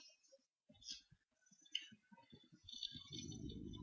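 Computer mouse clicks while editing a web page, a few light near clicks at uneven intervals with soft background noise and a broadband rustle building toward the end.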